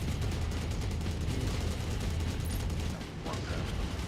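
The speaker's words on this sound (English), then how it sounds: "Strafing run." Continuous heavy gunfire and rumbling blasts from a mech strafing run in MechWarrior 5, a loud, unbroken barrage with a brief dip near the end.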